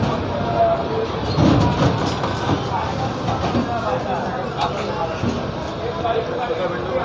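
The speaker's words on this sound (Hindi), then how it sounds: "चलिए अभी ट्रेन का आपको डिपार्चर दिखाते हैं।" Kota-Patna Express pulling out of a railway station with a steady rumble and clatter of wheels, while voices talk over the noise.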